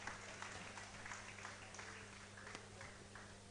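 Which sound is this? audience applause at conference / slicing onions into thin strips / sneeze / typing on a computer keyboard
audience applause at conference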